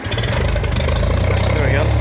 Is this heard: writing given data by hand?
no